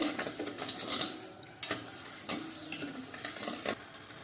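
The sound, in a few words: sugar syrup boiling in a pan for gulab jamun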